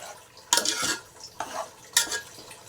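Two kilograms of country chicken are mixed by hand with spices, making three wet, squelching bursts with soft clinks of a bowl between short pauses, close and without speech.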